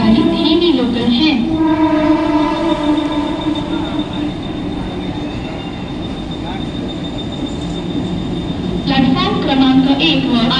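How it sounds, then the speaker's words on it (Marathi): A Mumbai slow local train runs at a station platform with a steady rumbling roll, a squealing, whistling tone from its wheels or brakes at the start and end, and a platform announcement in the background. "प्लॅटफॉर्म क्रमांक 2 पर आई हुई लोकल 6:38 की मुंबई छत्रपति शिवाजी महाराज टर्मिनस जाने वाली धीमी लोकल है।"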